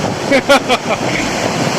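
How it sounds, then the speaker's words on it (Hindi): Lake waves wash against bare feet at flooded Yucca Beach in Bujumbura, Burundi, a breezy rushing surf heard up close beneath a few brief excited vocal exclamations. "पानी की लहरें मेरे पैरों में टकराते हुए"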